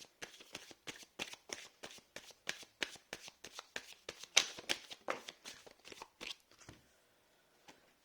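Tarot cards shuffled by hand in a quick series of soft riffling slaps and flicks, close and fairly quiet, ending with a card or two set down before near silence.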